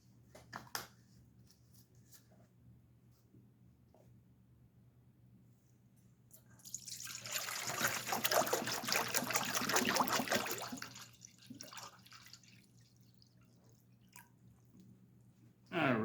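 Fresh distilled water poured into a stainless steel bowl, a splashing trickle that builds for a few seconds and then tapers off, set among quieter drips and handling noises.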